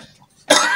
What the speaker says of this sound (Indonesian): maaf ini batuk ini ya.